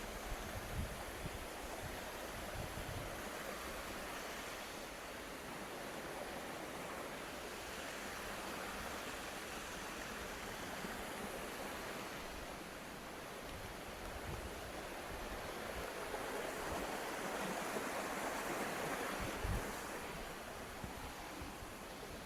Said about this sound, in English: That's quite a cool wee river there. Waterfall.